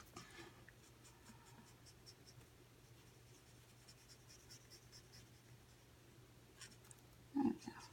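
Coloured pencil shades over paper in a quiet room, giving a faint, steady scratchy rasp, with one brief louder knock near the end.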